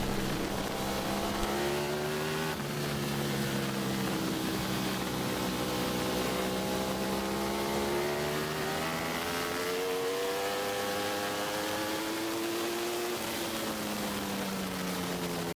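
Racing motorcycles circle a racetrack during a road-racing school session, engines droning and rising in pitch as bikes pass, a continuous loud layered whine of several machines at once with no talk.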